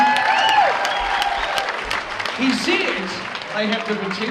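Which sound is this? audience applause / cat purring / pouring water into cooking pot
audience applause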